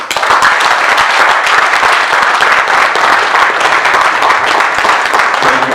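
An audience applauds loudly and continuously after a speech at an event following a gubernatorial election petition tribunal ruling in Ebonyi state, a dense wash of many hands clapping.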